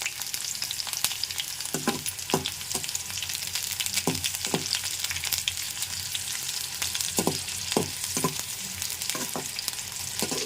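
Bottle gourd pieces fry in hot oil with a steady close sizzle, punctuated by repeated short clinks and scrapes of a utensil stirring the pan.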